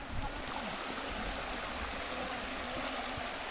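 Water sloshing and trickling at a well as it is scooped out with a container, a steady close wash of splashing water with no voices.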